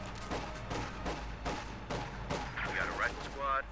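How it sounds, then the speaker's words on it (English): Sniper and rifle gunfire in the strategy game Company of Heroes 2: several sharp shots and bursts in a busy battle mix, with whizzing effects near the end and no clear speech. "Sniper fight, quickly taking them out."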